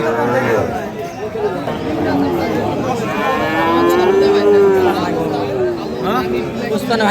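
Sahiwal calves and cattle at Ambari cattle market in Dinajpur low and moo repeatedly, loud and close, over a steady hubbub of people chattering nearby.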